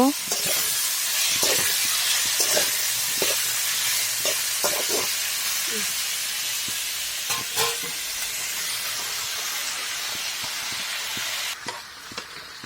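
Mixed vegetables sizzle in a pan with melted tomatoes, a steady frying hiss broken by repeated scrapes and clinks of stirring, close and fairly loud throughout.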